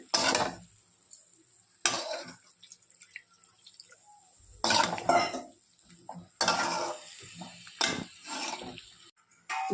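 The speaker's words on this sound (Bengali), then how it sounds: "দিয়ে এখন আরও ভালো মতো কষিয়ে নেব।" Cauliflower curry being stirred and sautéed in a pan, irregular bursts of scraping and clattering spoon strokes with quiet gaps between, close and fairly loud.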